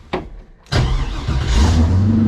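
An LS-swapped BMW E30 drift car cranks over with a brief starter whir, then its V8 fires and catches, revving into a loud, rough, rumbling idle close by.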